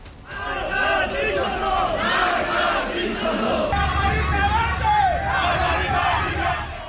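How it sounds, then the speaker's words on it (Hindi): An angry crowd at an anti-regime protest in Iran chants slogans in unison, many voices rising and falling in rhythmic shouts, loud and close, with a low rumble joining partway through. "आक्रोशित भीड़ इस्लामी रेजीम के खिलाफ नारे लगा रही है।"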